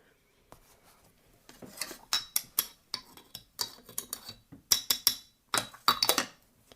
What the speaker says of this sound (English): so I'm just going to give it a stir.